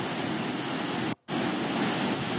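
Phalguni river in Mangaluru, overflowing after heavy rain, roars with a loud, steady rush of water, briefly cut off by a short gap.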